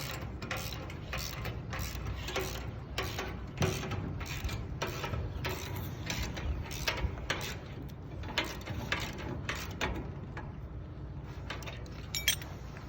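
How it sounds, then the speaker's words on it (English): A ratchet wrench tightens small quarter-20 bolts on barge fall protection equipment, a run of rapid, close metallic clicks in quick bursts with short pauses, plus a few light clinks near the end. "we'll tighten all of the little quarter 20 bolts along the way"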